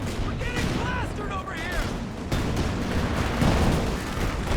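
Mortar and gunfire from a 4v4 Company of Heroes 2 battle on a winter map. Dense, continuous rumbling barrages mix with scattered shots and booms, and a louder stretch arrives in the second half.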